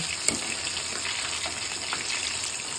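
Food sizzles steadily in a hot pan, likely vegetables such as onion, capsicum, carrot and beans being fried for a basmati rice dish, a continuous crackling hiss at moderate level with one brief sharp tap.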